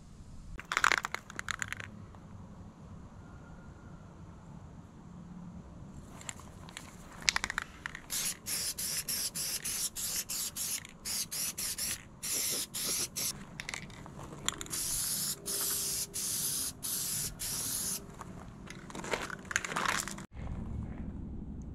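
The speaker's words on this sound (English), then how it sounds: "So let me get this thing primed and painted." Bursts of aerosol primer hiss onto a trailer part in a workshop, a string of short sprays followed by longer sustained passes, close and fairly loud with brief gaps between strokes.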